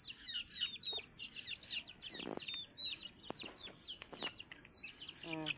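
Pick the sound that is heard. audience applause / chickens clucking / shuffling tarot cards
chickens clucking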